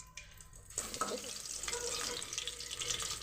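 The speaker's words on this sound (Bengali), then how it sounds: "তাই জন্য এখন বেগুনটা ভাজছি," Eggplant slices for beguni frying in hot oil give a dense, steady sizzle that begins abruptly after a short quiet start and carries on evenly at moderate loudness, with faint clinks.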